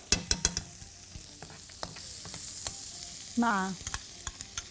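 Butter and garlic with black pepper frying in a pan for a sauce, giving a soft steady sizzle with several sharp stirring clinks and scrapes, one brief voiced sound midway.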